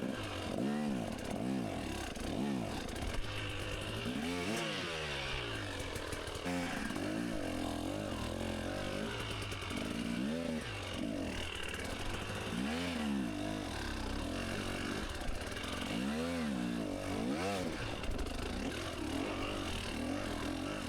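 A dirt bike engine labours through a hard enduro qualifier section, revving in repeated surges and dips over a continuous rough drone, loud and close throughout.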